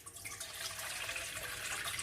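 Warm water poured into a bowl, a faint, steady trickling splash lasting a couple of seconds with no voices.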